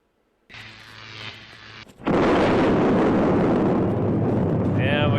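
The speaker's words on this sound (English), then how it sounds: "we got the climatic explosion" A loud, sustained film explosion effect erupts after a brief rising noise, a heavy roaring blast that fills the clip to the end.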